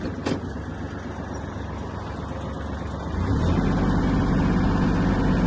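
A Japanese Kubota GL-25 mini tractor, its rotary tiller raised, moves off in the lowest reduced gear. The engine drones steadily nearby, then grows heavier and louder about halfway through as it takes up the load.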